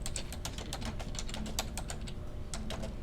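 Steady keystrokes on a computer keyboard as a name is typed in, a brisk irregular run of close, crisp clicks with a faint background hum and no voices.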